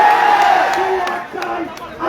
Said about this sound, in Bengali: সড়কটি অবরোধ করে রেখেছে শিক্ষার্থীরা এবং বিভিন্ন স্লোগান দিচ্ছে তারা